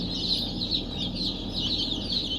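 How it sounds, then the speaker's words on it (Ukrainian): About twenty chicks cheep continuously in a dense, high-pitched chorus close by, with a steady low rumble underneath. "Ось курчатка ці, 20 штучок, всі живі."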